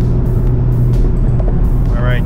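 A Honda Civic Type R cruises on the PA Turnpike, its steady loud engine and road drone heard from inside the cabin, with a voice briefly speaking over it.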